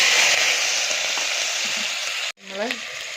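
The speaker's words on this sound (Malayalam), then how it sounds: "കുക്കറിലേക്ക് എണ്ണ ഒഴിച്ച് പെരുംജീരകം ഇട്ട് ഞാൻ അതിലേക്ക് ഇതിട്ട് കൊടുക്കാം" Green beans are fried with fennel seeds in hot oil inside a pressure cooker for a vegetable curry. A loud, continuous sizzle suddenly cuts out, then a short clatter and a brief rising tonal sound follow.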